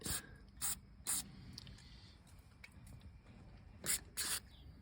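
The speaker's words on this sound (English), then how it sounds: "just soak all the things down with WD" WD-40 is sprayed onto Triumph Stag engine parts in several short, hissing aerosol bursts, two close together at the start and a pair near the end, loud and close over quiet background noise with no talking.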